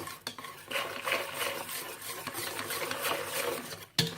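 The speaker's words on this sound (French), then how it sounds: "Alors, vous mélangez bien." A thick, crepe-like batter for far breton with prunes being whisked in a bowl, making a continuous wet swishing and scraping at close range that ends with a sharp knock of the utensil, with no voices.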